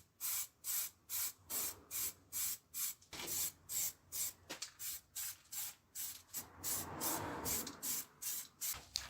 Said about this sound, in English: I'm using this Motip LU zinc spray for my first base coat